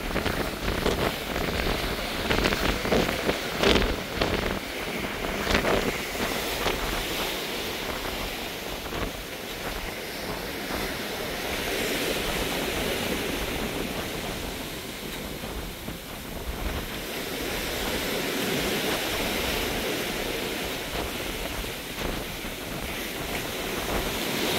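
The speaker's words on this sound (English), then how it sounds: "And it's very windy." Strong wind roars and buffets steadily throughout by the ocean, mixed with a rushing, surf-like wash and no voices.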